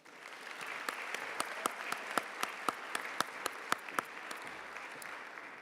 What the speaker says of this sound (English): Big warm round of applause for Grace Connolly.